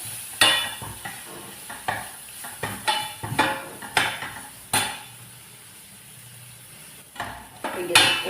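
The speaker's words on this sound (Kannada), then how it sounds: "ಇದಕ್ಕೆ ಮತ್ತೆ ನಾನು ಬಟಾಣಿ ಹಾಕ್ತೇನೆ, ಫ್ರೋಝನ್ ಬಟಾಣಿ." Frozen peas are stir-fried in a pan for a bakery-style samosa filling, with a soft sizzle under repeated sharp clanks and scrapes of a spatula against the pan, then a quieter pause before more stirring, and no voices.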